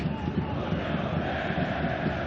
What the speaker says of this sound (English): The crowd have gone berserk.